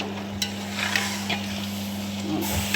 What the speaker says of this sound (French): On mélange bien notre sauce